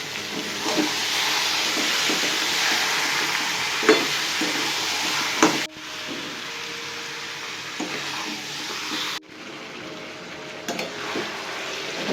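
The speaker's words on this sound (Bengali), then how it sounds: "এই দেখুন আস্তে আস্তে কষাচ্ছি, অনেকক্ষণ ধরে কষাতে হবে।" Meat slowly sautéing in a pan, a steady broadband sizzle with spatula scrapes and stirring knocks scattered through, close and continuous with brief dips.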